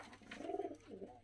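A fighting pigeon in Georgia gives two soft, low cooing calls, the second a little shorter, close by with faint background noise.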